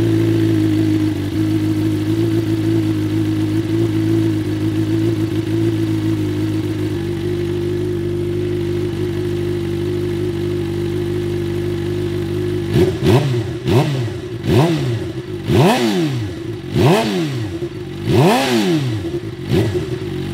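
A 2022 Suzuki GSX-R 750 motorcycle idles steadily on a cold day, then its engine is revved in about six sharp, rising and falling bursts, loud and close.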